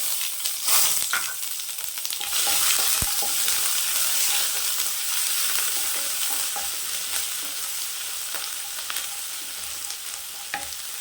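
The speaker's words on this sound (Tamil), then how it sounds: "அதே கடாயில் எண்ணெய் சேர்த்துக்கலாம் கடுகு கடலப்பருப்பு உளுத்தம்பருப்பு இதெல்லாம் சேர்த்துக்கலாம் இஞ்சி பூண்டு சேர்த்துக்கலாம்" Mustard seeds, chana dal, urad dal, ginger and garlic fry in hot oil in a kadai for an egg curry, a loud, steady hiss of sizzling with scattered crackles and pops and occasional stirring, no voices.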